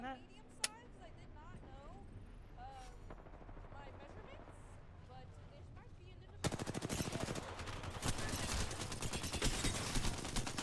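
Rapid bursts of video game gunfire crackle loud and dense through the last few seconds, following a quieter stretch of game ambience with a single sharp shot near the start; a voice talks over the action.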